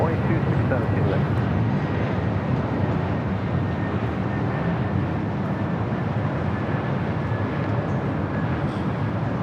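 A Delta Airbus A321neo jet departs from LAX with a broad, steady roar. The sound holds at a moderate, even level throughout, with a faint high whine above it.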